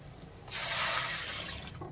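Water poured into a pot of browned onions while cooking bagara rice: a quiet start, then a sudden gushing splash about halfway through that holds steady and tapers near the end.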